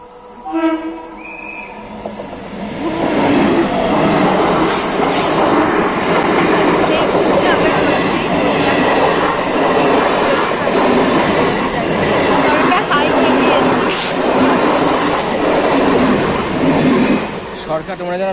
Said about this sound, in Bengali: উপরে ট্রেন আসতেছে